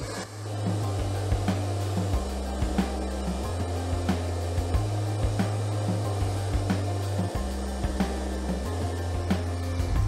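A 2000-watt hair dryer blows with a steady loud whoosh and low hum, its pitch stepping up and down as the settings change, with occasional knocks.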